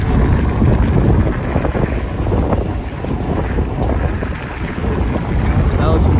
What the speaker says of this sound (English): That was some gust right there.